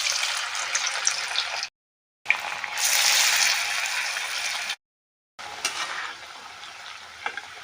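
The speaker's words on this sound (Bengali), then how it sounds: "তেলটা গরম হয়ে গেছে, আমি বড়াগুলো দিয়ে দেব" Cabbage pakoras frying in hot oil give a steady, close hiss and bubbling sizzle that fades a little later on, broken by two brief silent gaps, with no talking.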